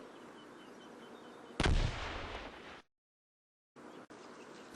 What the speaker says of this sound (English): but with all this heavy machine gun